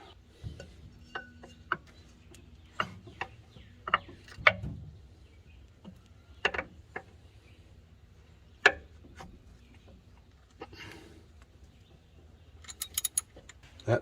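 A ratchet socket works an alternator bolt on a 1981 Ford F150, giving scattered sharp metallic clicks and taps at close range with quiet pauses between them.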